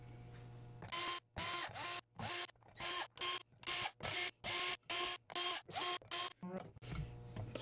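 Screws being backed out of the pickguard of a Made in Japan Fender Jazzmaster, heard as about a dozen close, sharp whirring bursts in a quick regular rhythm with brief pauses between them.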